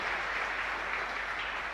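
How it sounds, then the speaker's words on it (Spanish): A church congregation at a live Mass applauds in a dense, steady wash of clapping that holds evenly throughout without pause. "Un fuerte aplauso para País Reinaldo"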